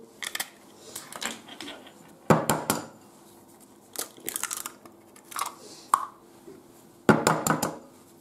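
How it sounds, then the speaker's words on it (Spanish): Whole eggs cracked into a mixing bowl for a Genoise sponge cake, heard as scattered close crunchy cracks, clinks and wet drops against the bowl in a quiet kitchen. "Ahora vamos a echar los huevos"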